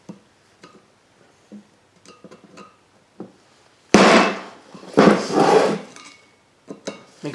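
Hammering on a metal brake part from a 2004 Toyota Sienna's front brakes to knock it loose, with scattered light taps and clanks followed by two louder, longer bursts of banging and rattling, close by.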